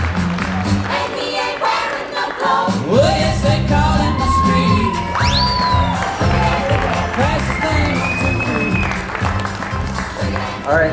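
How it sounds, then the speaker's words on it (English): A crowd at a campfire storytelling event applauds and cheers steadily, dense clapping mixed with whoops and shouts, with rising whistles cutting through the sustained noise. "Please give a round of applause."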